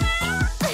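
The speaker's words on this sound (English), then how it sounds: "A kitty." A cat meows a few times in quick succession, close and clear, each call rising and falling with a slightly drawn-out final note, no talking.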